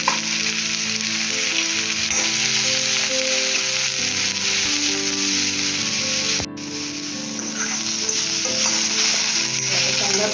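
Garlic and ginger sizzle steadily in a hot pan, a dense continuous frying hiss with a brief dip partway through, loud and close.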